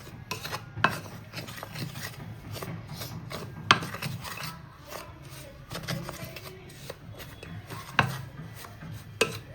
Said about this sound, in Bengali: ভালো করে মেশাবো।